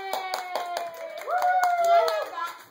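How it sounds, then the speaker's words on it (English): Hands clapping in a steady rhythm at a child's sixth birthday party, close by, with a sustained sung or whistled tone and excited voices over it. "Yay, now clapping."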